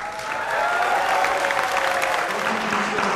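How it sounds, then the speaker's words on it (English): Audience applause follows a governor candidate's election speech, a dense burst of crowd clapping that builds quickly and holds steady at moderate volume. "Let's get the applause"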